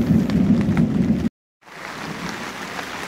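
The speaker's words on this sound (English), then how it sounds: "And it is raining." Steady rain drums on a bug-out yurt, a dense, even patter that stops abruptly for a moment and then resumes slightly softer.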